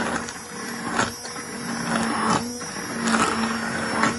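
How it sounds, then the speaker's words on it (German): Steady whirring motor of a blender pureeing soup, loud and close, with a slight rhythmic pulsing over a few seconds and no voices. "so schnell geht eine pürierte Suppe"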